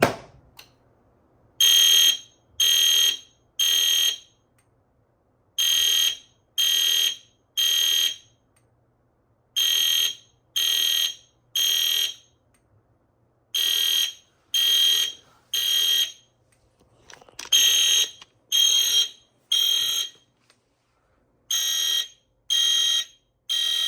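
A conventional EST fire alarm panel sounds after a pull station is pulled: a loud, steady horn pattern of short repeated bursts in groups with brief gaps, continuing for over twenty seconds with no voices.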